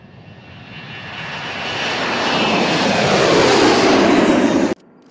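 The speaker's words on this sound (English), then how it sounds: "Please fasten your seatbelts and prepare for takeoff." An airplane's engines roar up during takeoff, the broad rumbling whoosh building steadily louder and rising in pitch before cutting off abruptly near the end.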